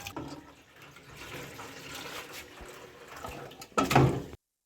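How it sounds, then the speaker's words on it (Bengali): Chopped greens are rinsed by hand in a bowl of water, giving a continuous close splashing and sloshing that swells into a louder burst of water just before it stops. "ভালো করে পানি দিয়ে হাত দিয়ে পরিষ্কার করে নেবেন।"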